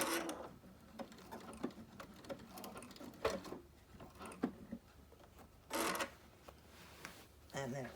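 A sewing machine stitches a quilt in short, uneven bursts of mechanical chatter between quieter pauses, with faint rubbing of fabric and a voice murmuring in the background.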